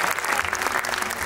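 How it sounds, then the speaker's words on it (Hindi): An audience at a stage show's opening ceremony claps for dance performers in a brief, dense, steady burst of crowd applause. "can we have a huge round of applause for all the performers"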